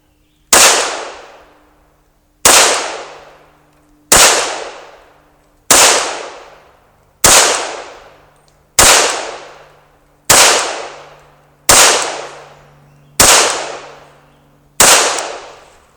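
Ten single shots from a Sig Sauer P320 pistol ring out at an even, unhurried pace, each a loud sharp crack with a short decaying tail, and no talking between them.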